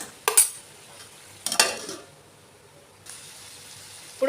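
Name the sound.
stirring cauliflower and chopped tomatoes in a pan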